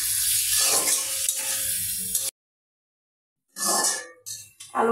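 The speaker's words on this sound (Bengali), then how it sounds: "এবার আলুগুলো দিয়ে দিচ্ছি। আলুটা কিছুক্ষণ কষিয়ে নেব।" Potatoes being added and stirred in hot spiced oil: loud, close hissing and scraping, then a silent gap of over a second before the sizzling and stirring resume in bursts.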